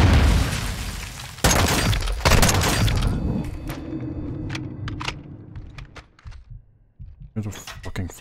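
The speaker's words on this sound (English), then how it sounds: "Here's a fucking flashbang." Flashbang grenade detonating in Modern Warfare 2022, a sharp loud burst with a bright crack followed by a second hit and a fading ringing tail, then scattered short thuds and gunfire-like pops, with a voice talking over it.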